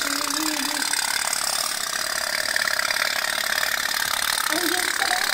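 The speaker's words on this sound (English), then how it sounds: "It sounds also like a steam boat." A small toy steam boat engine runs steadily at close range, giving a continuous, even mechanical chugging hum with a dense buzzy texture throughout, no pauses and no talk over it.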